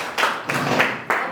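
Several separate claps from an audience at a conference session, sharp bursts spaced unevenly across a short stretch, fairly loud and close with no talk over them.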